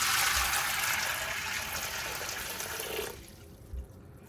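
Water pours steadily into a stock pot holding dry light red kidney beans for cooking, a bright splashing rush lasting about three seconds before it stops, followed by a faint clunk.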